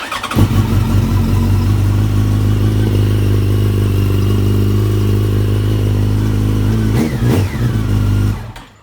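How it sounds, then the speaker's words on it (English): A carbureted motorcycle engine starts on the first try and settles into a loud, steady idle close by, with a brief blip of revs before it cuts off near the end. "The bike should start on the first try."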